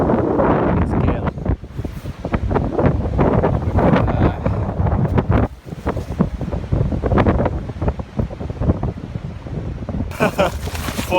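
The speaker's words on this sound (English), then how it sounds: "as you can see when I hold the camera up to the wind, it's" Gale-force winter wind buffeting a camera microphone outdoors at a wild camping spot, a loud continuous roaring rumble with gusty surges and a brief lull midway, up close and overpowering.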